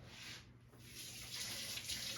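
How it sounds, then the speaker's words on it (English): A kitchen faucet runs softly to wet hands while shaping dough, a quiet, even stream of water with a gentle splashing hiss throughout and no talking. "I'm just going to wet my hands with a little bit of water"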